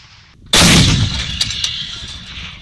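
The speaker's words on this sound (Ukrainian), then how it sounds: "Стрільби зведених підрозділів проходили із застосуванням 152 мм гаубиць Д-20, реактивних систем град, мінометів калібру 82 та 120 мм." Artillery live-fire drill near Kherson with 152 mm D-20 howitzers, Grad rocket launchers and 82 and 120 mm mortars: one loud, close blast with a long rolling rumble, then a couple of fainter distant reports.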